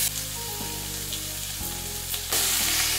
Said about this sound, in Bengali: এবার আমি মশলা মাখানো সবজিটা এর মধ্যে দিয়ে দিচ্ছি